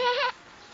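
A voice imitates a goat's bleat, one short wavering call that cuts off abruptly into quiet.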